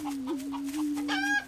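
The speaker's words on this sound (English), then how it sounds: "One chicken booming on another guy's booming ground" A prairie chicken calls on its booming ground: a steady low hooting drone with a few clucking, cackling notes on top, near and fairly loud, with no speech.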